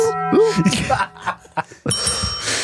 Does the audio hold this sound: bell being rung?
yes